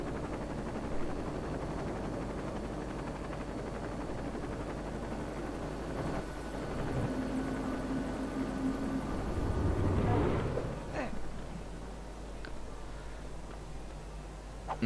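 A helicopter in the Lego City Undercover video game gives a steady, moderately quiet rotor and engine drone throughout, swelling slightly near the middle with a few faint clicks.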